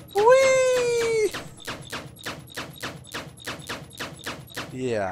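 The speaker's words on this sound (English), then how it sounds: "The big thing with the turrets is that they don't stop shooting" Turrets in the video game Eden Star fire a steady rhythm of sharp, evenly spaced shots at close range, opening under a drawn-out vocal exclamation before continuing alone.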